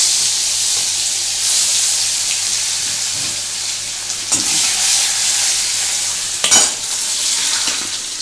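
Grated ginger sizzles in hot oil for a potato dum with almond paste, a steady bright frying hiss running throughout with a few louder spatters and stirring scrapes near the end, no talking.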